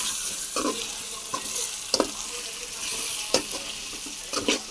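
Cabbage and eggs stir-frying in a pan give a steady close sizzle, with a spatula scraping and clacking against the pan several times at irregular intervals.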